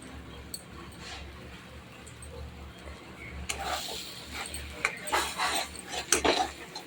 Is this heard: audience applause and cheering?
no